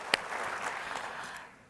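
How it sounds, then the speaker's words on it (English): Audience applause after three presentations at a space station research conference, a steady patter of clapping with one sharp clap near the start, fading slightly toward the end. "Just a round of applause for all three presentations."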